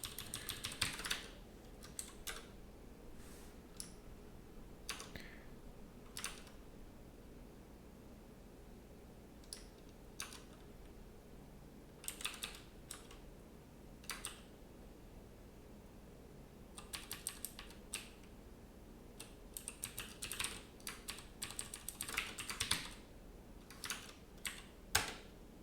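Someone types on a computer keyboard in quick bursts of clicking keystrokes, separated by pauses, across a long stretch. The sound is close and moderately quiet, and no one speaks.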